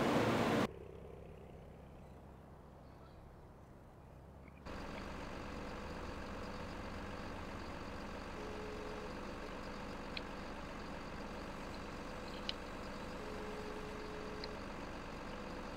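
A tractor engine in Farming Simulator 2015 gives a steady, low, idling drone during corn harvesting, after a brief noisy burst at the start, with a few faint clicks and no talk.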